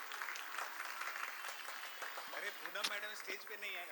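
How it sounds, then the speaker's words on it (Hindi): Audience applause at a keynote event, a fairly faint patter of clapping that continues for several seconds with scattered sharper claps near the end. "So Poonam, a big round of applause for Poonam as well."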